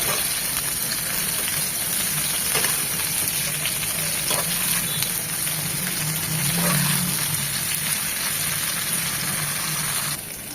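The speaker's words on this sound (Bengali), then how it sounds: "এখানে কোনো লবণ হলুদ কিছুই দেবো না, মাছের মতো 1 থেকে 2 মিনিট একটু এই তেলে ভেজে নেব" Eggplant pieces fry lightly in oil without salt or turmeric for a tilapia and eggplant stew, making a loud, continuous close sizzle with a few scraping stirs and faint clatters throughout.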